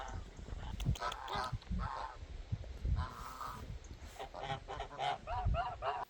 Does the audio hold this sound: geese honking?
yes